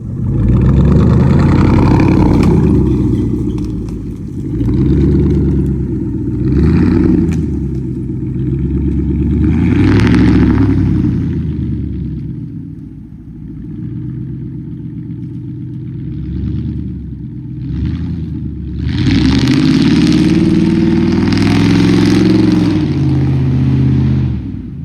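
A truck nicknamed Chomper warms up outdoors, its loud engine rumbling near the listener with repeated revs that swell and fall back to a throaty idle, then a final strong surge.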